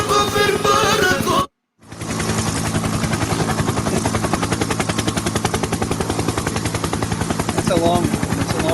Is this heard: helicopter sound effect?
yes